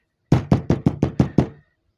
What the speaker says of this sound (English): knocks at the door